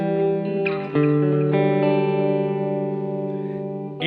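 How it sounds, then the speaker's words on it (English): Clean electric guitar chords run through a digital delay set to dotted eighths, each strummed chord ringing out with repeating echoes trailing behind, played alone and fairly soft. "So I started with this digital delay, and I put it on a dotted eighth."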